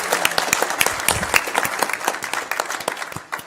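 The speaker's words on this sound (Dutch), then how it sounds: "Dus ik even een applaus voor het personeel van Maskeline." Applause for catering staff at a local political debate, a burst of dense, close hand clapping from a seated audience that carries on steadily for a few seconds.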